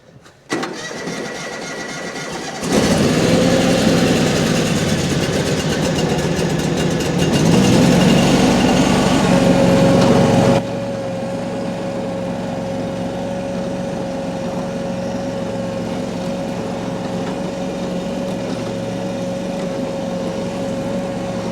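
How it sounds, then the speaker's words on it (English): A Wheel Horse 520 XI lawn tractor engine cranks and starts, roars loudly for several seconds, then settles into a steady, close idle with a sustained hum. "Let's get this tractor in the garage"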